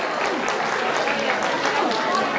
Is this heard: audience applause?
yes